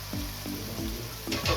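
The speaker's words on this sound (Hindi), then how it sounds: "सिर्फ 1 या 2 मिनट के लिए भूनना होगा" Turnip bhujia fries in a tomato and onion masala. A steady sizzle runs under a few quick scraping stirs of the pan, all close up.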